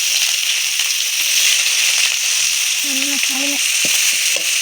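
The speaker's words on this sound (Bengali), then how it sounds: "তেলের মধ্যে করে নেওয়া রসুন আর ছোটো করে নেওয়া পেঁয়াজ দেওয়া হয়েছে ফোড়ন দেওয়ার জন্যে" Garlic and finely chopped onion frying in hot oil for a curry tempering, giving a steady, close hiss that runs the whole time, with a few faint stirring clinks underneath.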